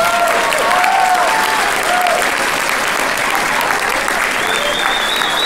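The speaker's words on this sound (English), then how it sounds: "Another round of applause for that first grade" Parents in an elementary school audience applaud a first grade music program, loud sustained clapping filling the room with a faint murmur of voices and a brief high whistle-like tone near the end.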